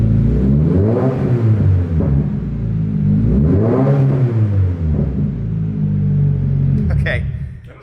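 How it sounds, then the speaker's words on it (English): A 2022 Subaru BRZ with a custom exhaust and resonator revs up and down in several throaty, rumbling swells, close and loud, with a voice talking over it. "That's actually a pretty good resonator, but it needs a muffler."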